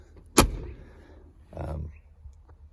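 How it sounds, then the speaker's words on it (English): A 1970 Lotus Europa's fiberglass door shuts with one sharp, solid thump close by, followed about a second later by a softer, duller rattle of movement in a quiet setting. "This has some of the best closing doors for a Europa I've ever heard or felt."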